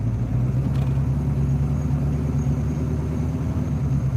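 A car rolls through a residential subdivision in Huntsville, its engine a steady low rumble with road noise that holds loud and close throughout, with no one talking.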